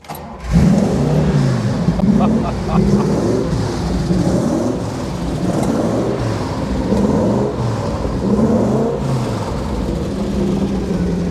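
A mid-rear-mounted Maserati V8 engine hums and surges steadily through continuous acceleration in a Citroën, with people talking over the drone inside the cabin.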